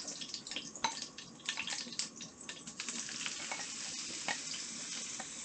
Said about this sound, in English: Now that the oil's melted, you don't want it to start popping too much. You hear that? That means it's hot.